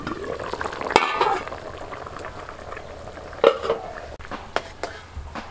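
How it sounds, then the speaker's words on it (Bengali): Water goes into spiced potatoes in a hot pan, giving brief sizzling bursts and soft bubbling, with a few scrapes and clinks of stirring. "মশলার সাথে আলুটাকে ভালো করে কষিয়ে নিয়েছি, এখন জল দিয়ে দিচ্ছি"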